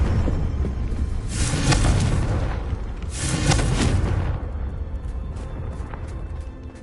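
Confringo explosive spells from Hogwarts Legacy, cast in a game, hit as two heavy booming blasts a couple of seconds apart, each with a crackling burst that trails off into a lingering rumble.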